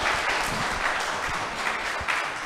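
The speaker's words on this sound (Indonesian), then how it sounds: "mohon tepuk tangan untuk seluruh narasumber kita" A live audience at an interactive dialogue forum gives the panel speakers a loud, sustained round of applause, a thick wash of clapping that holds steady from start to finish without talk.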